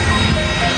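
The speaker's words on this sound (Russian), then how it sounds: "Сейчас летит еще один самолет." Airplane passing low over Nai Yang Beach in Phuket, a broad steady engine roar filling the whole short moment, loud and close with no break.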